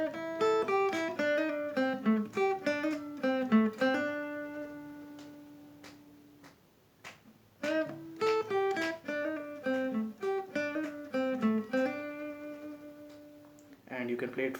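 Electric guitar playing a slow blues lick in the first pentatonic position, bent and sustained single notes in two similar phrases separated by a pause, with a new phrase starting at the end.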